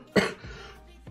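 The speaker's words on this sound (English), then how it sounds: "why is this tiny little cough here?" A single short, soft cough near the start, followed by quiet room sound and a brief faint noise at the end.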